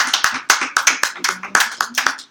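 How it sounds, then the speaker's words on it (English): Sparse clapping from a small audience at an evening gathering, individual sharp claps in an uneven rhythm, close and fairly loud, with no speech over it. "give yourselves a round of applause for making it tonight"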